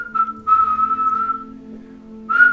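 A person imitates a loud, awkward whistle: a short shrill note, a longer held tone with a slight waver, a brief pause, then another sharp burst at the end.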